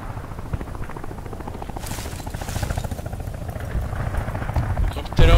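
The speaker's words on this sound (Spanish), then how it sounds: "Helicóptero." A helicopter in the video game Battlefield Bad Company 2 gives a steady rapid rotor chop throughout, loud and close, with game noise and a brief burst at the end.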